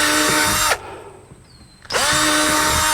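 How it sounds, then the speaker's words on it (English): A power drill with a 1/8 inch bit whirs loudly and steadily drilling holes in a kayak, stops for about a second, then starts up again at full speed. "So I can just continue to drill those holes."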